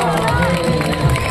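A crowd cheering and clapping for students at an event in Kolkata, a short lively burst of voices and applause with talking mixed in.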